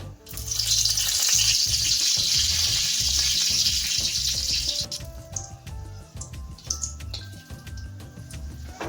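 Dried red chilies spit and crackle in hot mustard oil in a kadai, a dense bright sizzle that fades after a few seconds into sparse pops and clinks.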